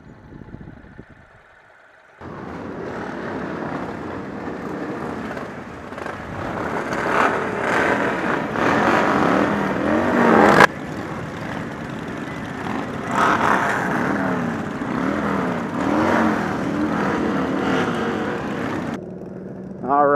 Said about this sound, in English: I am apparently in a parade with a bunch of Harleys